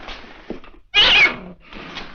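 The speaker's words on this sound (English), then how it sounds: "Our cat had kittens and they're all over the place." A cat gives one short, loud, high meow in a quiet indoor room, with fainter mewing sounds just before and after it.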